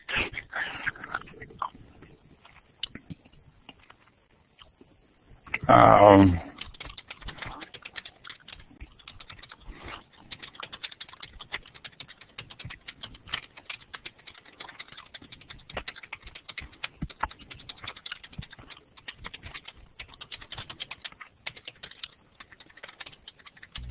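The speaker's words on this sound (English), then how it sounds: "But I can hear you typing" Steady clicking of a computer keyboard continues throughout, fairly faint and close, with one brief louder noise burst early on.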